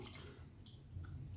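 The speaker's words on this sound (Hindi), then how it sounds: "1/4 लीटर हमने पानी डाल दिया है" Water pours into a cooking pot to boil soaked chana dal for halwa, a quiet, steady splashing and trickling with no voices.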